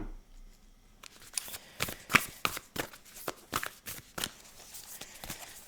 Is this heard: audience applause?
no